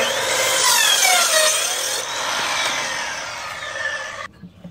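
An Evolution EVOSAW180 7-1/4-inch circular saw rips through boards with screws and nails in them, giving a loud, continuous high-pitched cutting whine with metallic squeals that stops abruptly near the end.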